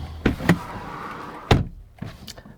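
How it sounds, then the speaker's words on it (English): Door of a BMW i4 M50 electric car swinging shut: a handful of close, dull thumps and rattly knocks spaced apart, with quiet cabin ambience between them. "It's not the noise a BMW door should make."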